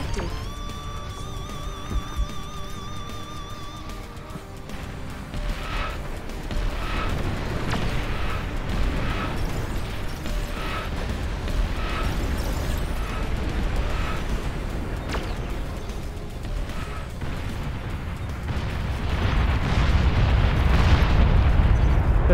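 A nuclear missile launch in the real-time strategy game Beyond All Reason, with a rhythmic series of booming blasts and rumbling explosions rolling on steadily and swelling to a heavy, low roar at the end.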